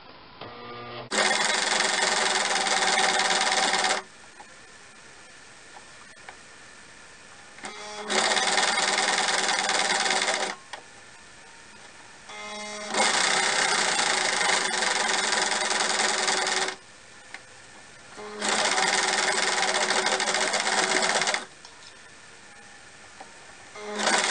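Sewing machine stitching a seam on a nun's veil, four steady whirring runs of a few seconds each, separated by quieter pauses with small clicks, close and alone.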